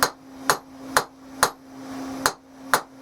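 Hammer strikes on hot steel while a knife blade is forged, six sharp ringing blows at an even, roughly half-second pace, close and loud with a steady hum underneath.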